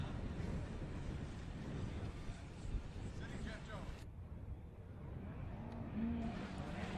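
A supercharged LS-engined Nissan S14 drift car at Formula Drift in Texas roars and revs in a loud, continuous engine wash with wind noise, under a commentator's fast talk.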